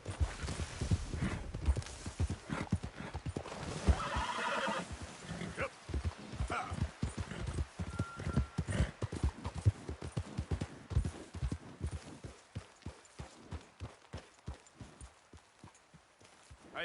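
Horse hooves in Red Dead Redemption 2 thud in quick irregular clusters, loud and near, with a brief whinny amid the commotion before the footfalls thin out and fade.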